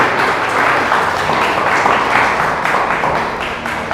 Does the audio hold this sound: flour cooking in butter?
no